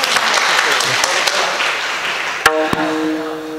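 An audience at a Marathi kirtan in Pune applauds in a dense, steady wash of many hands clapping, loud and close. A sharp strike then rings out as a sustained metallic tone near the end.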